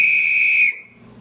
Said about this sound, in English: the idea of a rape whistle or just an attention whistle. I prefer my granddad's one.